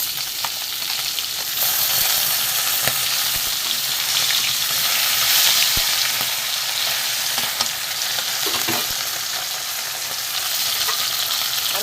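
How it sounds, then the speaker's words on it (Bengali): Salted, turmeric-rubbed bata fish pieces fry in hot oil after being flipped, with a loud, steady crackling sizzle that runs unbroken and close throughout, plus a few sharp spatter pops. "মাছগুলো উল্টে দেব।"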